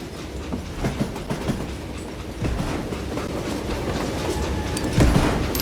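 A train flat car piled with logs rolls along rails in Call of Juarez Gunslinger, with a steady rumble and rhythmic clickety-clack of wheels over track joints, growing slightly louder near the end.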